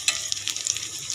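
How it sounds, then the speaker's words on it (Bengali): Onion and chilli frying in hot oil, giving a faint, brief crackling sizzle with a few small pops and no voices. "পেঁয়াজ মরিচ ভাজা প্রায় হয়ে গেছে"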